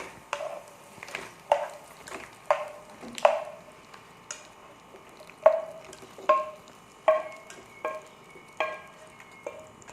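Sliced onion is tossed and stirred into fried chillies in a pan for Kerala-style chutney, giving a steady series of sharp scraping knocks from the spoon against the pan, evenly spaced and close, with no talk.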